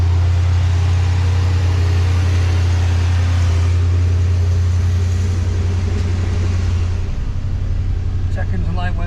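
A 1986 Pontiac Trans Am engine, just restarted during diagnosis of a fuel starvation fault, idles steadily with a loud, constant low hum.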